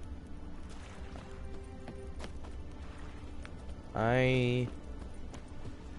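Horse hooves clip-clopping in the video game Witcher 3, a soft steady patter under game ambience, followed by a brief tonal horse whinny near the end; someone talks briefly.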